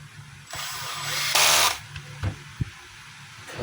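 A screw is driven into the housing of a Black and Decker G720 4-inch angle grinder with a power driver, a short whirring burst followed by a couple of clicks and knocks, close and moderately loud.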